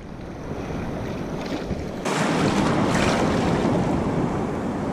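Sea waves crash against a shore fisherman in a Force 6 wind, a loud, steady roar of surf and gusting wind buffeting the microphone, with a fresh wave surging in midway. No voices.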